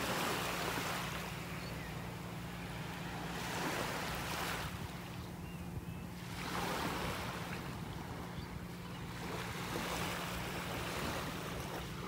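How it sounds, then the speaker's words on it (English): Tidal water flowing out of Wiggins Pass at a Naples, Florida beach, a continuous rushing wash with slow swells of surf and wind buffeting the microphone. "the tide going out of Wiggins Pass."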